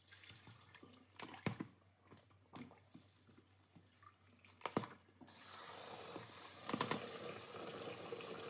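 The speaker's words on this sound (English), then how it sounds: "what you need to do is to wash your rice thoroughly with hot water." Rice being washed with hot water in a kitchen sink, with splashing, sloshing and dripping sounds close by, then a steadier run of water from the tap partway through.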